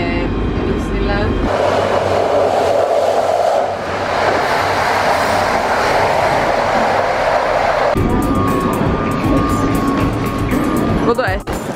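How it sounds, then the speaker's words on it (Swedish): Inside a train heading to Disneyland Paris, a loud steady rumble and rolling drone fill the carriage, shifting in tone partway through, while passengers talk. "Nu sitter vi på tåget och är på väg till Disneyland."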